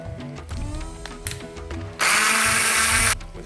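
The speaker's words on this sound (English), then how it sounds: "get your hand blender out or your other blender and pour it in. And just blend it up to the consistency you like" A hand blender whirs loudly through a salmon and prawn molee sauce, a sustained steady buzz for about a second after quieter kitchen clatter and motor bursts.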